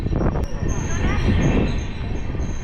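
Inside a train running from Chennai toward Yelagiri near Arakkonam Junction, a loud rumbling roll carries on continuously, with faint wheel squeal and light rhythmic clatter.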